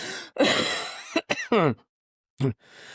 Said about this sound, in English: We sound anyways, like a bunch of old people just coughing